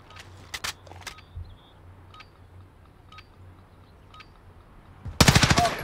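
Gunship killstreak fire in a Call of Duty search-and-destroy match: faint scattered shots and clicks first, then a sudden loud, rapid burst of heavy automatic fire near the end.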